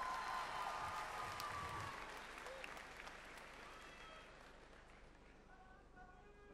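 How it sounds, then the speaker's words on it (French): An audience at a Japan Expo cosplay show applauds a contestant in steady, dense clapping that starts loud and gradually tapers, with a voice and music over the crowd. "Applaudissez-le bien fort!"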